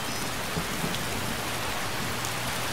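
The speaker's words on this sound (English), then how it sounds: "I don't care that it's raining, because the rain looks so frickin' awesome" Heavy rain falling in Skyrim, a dense, even hiss of downpour with scattered drop patter and no other sounds, steady across the whole stretch.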